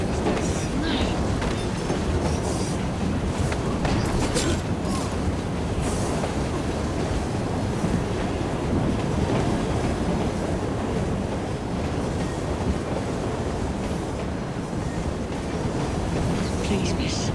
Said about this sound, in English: We'll be on our way as soon as the train slows, miss.